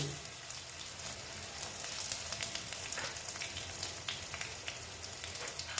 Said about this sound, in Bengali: ভেজে নিচ্ছি ভালো মতো তারপর আমি দিয়ে দিচ্ছি কালো জিরে